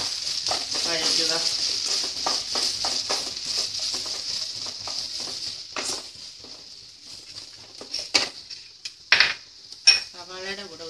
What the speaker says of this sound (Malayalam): അത് വിട്ട് രണ്ട് സവാളയും ആവശ്യത്തിന് ഉപ്പ് ഇട്ട് നന്നായി വഴറ്റുക.